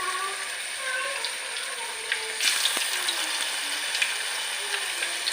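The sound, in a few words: chicken pieces frying in hot oil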